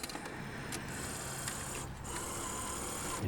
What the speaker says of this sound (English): These Sonys thread the tape in the mechanism continuously